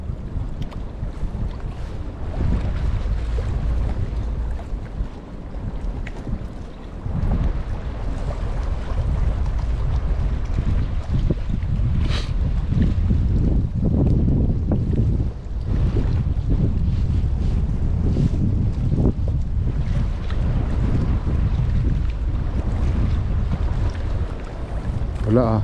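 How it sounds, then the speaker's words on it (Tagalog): Strong wind buffets the microphone with a constant low roar while fishing for bream, with waves and water sounds underneath throughout. "malakas ang hangin"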